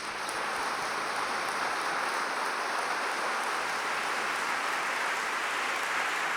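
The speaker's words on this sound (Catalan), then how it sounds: "Un aplaudiment" An audience gives a steady, dense round of applause at a theatre presentation. It sounds like a continuous hiss of many clapping hands, even and sustained from start to end.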